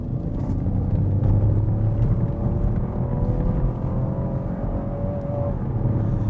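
A Ford Puma three-cylinder engine hums steadily from inside the cabin, its pitch rising gradually as it pulls through the revs.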